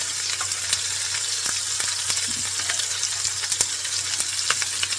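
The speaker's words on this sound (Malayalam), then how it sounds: "അങ്ങനെ നമുക്ക് മീൻ ഫുള്ള് നമുക്ക് വറുത്തെടുക്കണം കേട്ടോ." Fish coated in rava (semolina) sizzles steadily in a pan of hot oil, a close, continuous crackling hiss with scattered louder pops and no talking.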